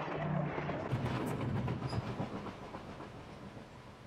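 A train rumbles past on nearby tracks, a loud, dense roar with clattering and a brief hiss that gradually eases off over a few seconds.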